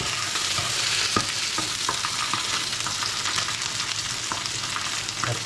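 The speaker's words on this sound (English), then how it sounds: "The fish has been cooking for about 5 minutes now." Dorada fish frying in a pan, a steady close crackling sizzle with scattered pops and occasional utensil taps, continuous with no talking.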